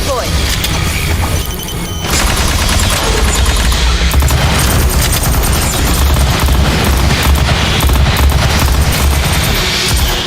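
A deployed sentry gun in Aliens: Fireteam Elite fires sustained rapid bursts, loud and dense, amid explosions and heavy combat noise, with voices calling out over the din.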